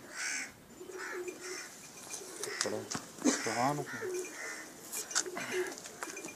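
A Pakistani breeder pair of pigeons coos in soft, rolling bursts close by, with other bird calls and faint background voices around them.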